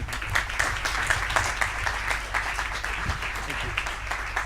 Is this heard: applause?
yes